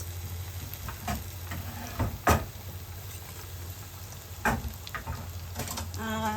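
Onions sautéing in a pan for squid ink pasta make a soft, continuous sizzle, broken by several sharper scrapes and clatters as they are stirred.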